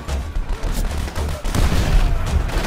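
A grenade blast and rapid gunfire from the Call of Duty: World at War video game on PC, a loud, dense barrage of booms and shots rolling continuously, with no talk over it.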